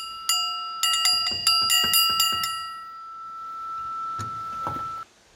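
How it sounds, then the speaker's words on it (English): A homemade dinner bell made from leftover tin and tree trunk pieces rings out in a series of bright metallic strikes, each leaving long, ringing overtones that linger and fade between hits. "a dinner bell."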